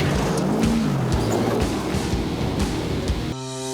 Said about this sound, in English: What's it going to be, Elle? The V8 buggy or the trophy truck